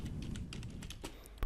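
Computer keyboard keys click in a quick, uneven burst of typing, close and fairly quiet, with no talking.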